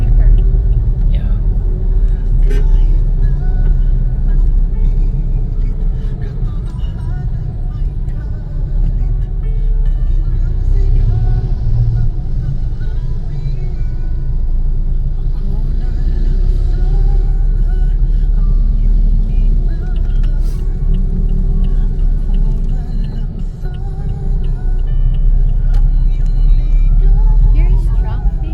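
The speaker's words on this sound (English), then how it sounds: "Here is traffic." Street traffic rumbles continuously as cars pass along a busy road, with a steady low engine drone and occasional louder swells, while people talk over it.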